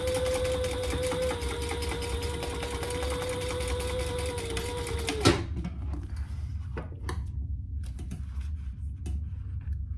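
A sewing machine runs a steady humming whir while top stitching fabric, then stops abruptly about halfway, leaving a few soft clicks and quiet handling noises.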